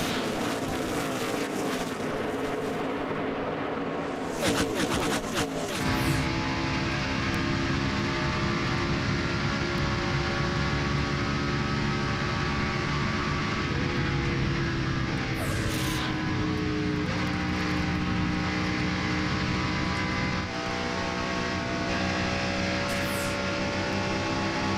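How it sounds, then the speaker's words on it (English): Busch Series stock cars roar past at full throttle during the 2007 Stater Brothers 300, a continuous loud engine drone with several sharp whooshing passes as cars sweep by close. "Let's go full throttle and hear these Busch Series cars at full speed."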